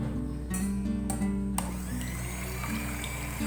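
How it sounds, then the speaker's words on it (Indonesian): Electric hand mixer beating egg whites at low speed, a steady close whir with a few brief rattles of beaters against the bowl and no talk. "Dan ini juga kita mixer dari speed paling rendah sampai berbusa dan kita naikkan terus speednya ya."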